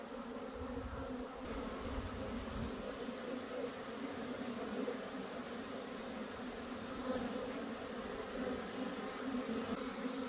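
Many honeybees hum in a dense, continuous drone throughout an apiary during their spring cleansing flight in April, steady and close with no talking.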